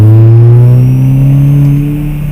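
A car engine pulls hard and steady in second gear as it moves into traffic, its pitch climbing gradually as it accelerates, loud and close with no talking.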